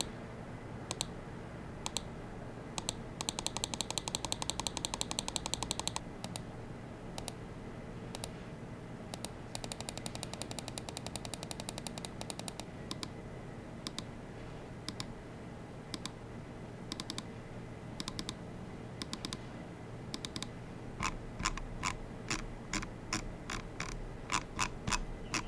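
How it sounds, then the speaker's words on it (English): Zowie FK2-DW computer mouse buttons clicked in quick bursts and single taps, crisp close clicks with rapid runs in places, set against a quiet room with no talking. "here's a quick sound test to give you a better idea of how this mouse sounds."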